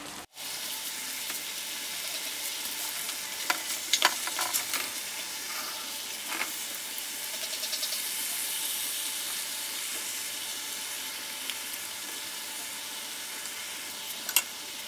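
Large pieces of pork teriyaki fry slowly in an uncovered pan, giving a steady, soft sizzle and hiss with a few faint clinks, no voices over it.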